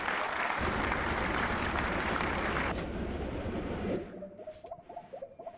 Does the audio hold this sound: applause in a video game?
yes